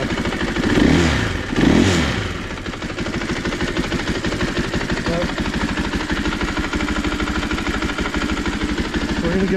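A 2024 KTM 500 EXC-F with its stock exhaust gives two quick loud revs, then settles into a steady, close, even idle that runs on alone.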